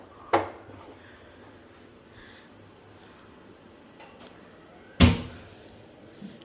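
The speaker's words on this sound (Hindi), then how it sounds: "यहाँ पे मैं बर्तन भी सेट कर रही हूँ" Utensils being arranged in a home kitchen: two sharp clinks of metal dishes, one near the start and a louder one about five seconds in, with faint clatter between and a quiet room hum underneath.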